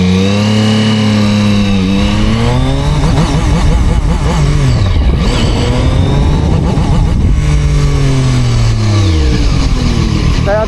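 A Zontes 703RR motorcycle engine revs hard in first gear in sport mode, climbing and falling through loud, sustained rising and dropping whines, close and dominating throughout.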